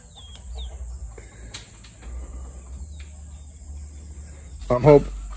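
Brief, loud burst of chickens clucking and flapping as they fly up into a tree near the end, following a quiet outdoor stretch in the Philippines with faint insects and distant bird calls.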